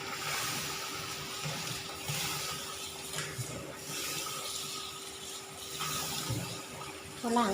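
Cold tap water runs steadily over freshly boiled noodles being rinsed, a continuous close rushing splash with faint clinks near the end.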